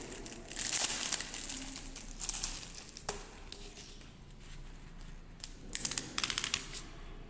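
Craft paper handled and crumpled up close, bursts of crinkling and rustling coming and going with short pauses, and a sharp crackle in the middle.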